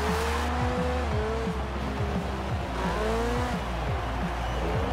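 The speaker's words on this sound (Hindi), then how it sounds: "उसके पहले इंजन और टर्बो साउंड सुन लीजिए." Car engine with turbo whine in the racing video game Forza Horizon 4, loud and continuous, with rising and falling revs through repeated gear shifts and some tire squeal, no talking.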